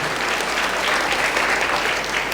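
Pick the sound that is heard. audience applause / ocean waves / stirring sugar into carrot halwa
audience applause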